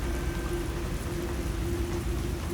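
Steady rain falls on a dark roadway, a continuous close hiss of patter with a faint low rumble underneath and no voices.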